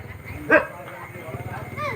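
A single sharp dog bark rings out briefly among stray dogs in a village street in Juchandra, set against a low murmur of background noise.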